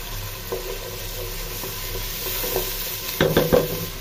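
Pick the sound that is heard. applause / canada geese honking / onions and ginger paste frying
onions and ginger paste frying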